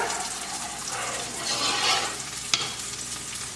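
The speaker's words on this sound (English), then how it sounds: "Give it a nice stir." A spoon stirs rice in a pot, a soft scraping swish with a faint sizzle beneath, building in the middle and ending with two sharp knocks of the spoon against the pot; close, no talking.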